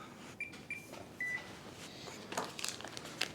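Three short electronic beeps from an oven control panel as it is set to preheat to 400°F, spaced about half a second apart and fairly close, followed by faint kitchen rustling and clatter.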